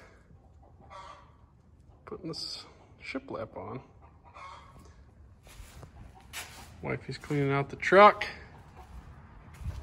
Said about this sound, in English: Chickens are being loud.